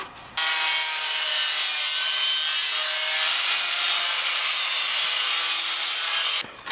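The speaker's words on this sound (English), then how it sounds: "We should always very carefully clean off all these sharp edges" A file rasps steadily across the sharp cut edges of a scrap steel piece clamped in place, in one continuous, loud stroke of scraping that starts and stops abruptly.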